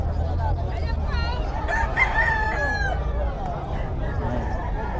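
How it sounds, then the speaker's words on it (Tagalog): Rooster crowing at a chicken market, one clear cock-a-doodle-doo rising over crowd babble and a low background hum, with people talking nearby. "Malaking manok."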